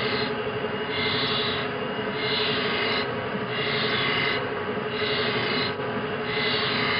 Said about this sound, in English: Now, I'm feeding the drill in again.